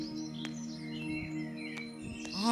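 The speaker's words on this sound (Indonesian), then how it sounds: "Lalu seekor burung berteriak," A bird-call sound effect in a night dance performance at the 13th BWCF 2024 by Sardono W. Kusumo. Faint chirps and sweeping cries rise over a sustained droning background, ending in a sharper upward call.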